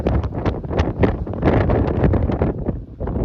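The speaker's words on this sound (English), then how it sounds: "pretty windy out here and pretty cold" Loud wind buffets the microphone in rough, rumbling gusts on a cold Dartmoor tor during a wild camp, close and continuous.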